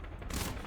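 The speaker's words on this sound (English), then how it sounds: "Homing missile" A homing missile fires in a tank video game, a burst of broadband noise that swells abruptly partway through and holds loud to the end, heard alone.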